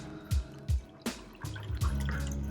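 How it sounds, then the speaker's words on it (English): Ginger gut tonic concentrate poured into a mug of warm water, a few separate glugging drips and splashes at a slightly irregular pace, close and clear, settling into a short trickle at the end. "you're just going to pour the concentrate"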